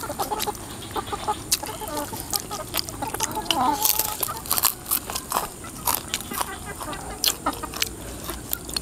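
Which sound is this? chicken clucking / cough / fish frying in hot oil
chicken clucking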